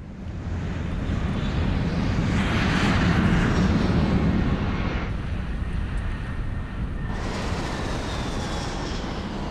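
Fixed-wing airplane engine drone in flight, a steady broadband roar that stays loud and constant throughout with some wind-like hiss, no talking.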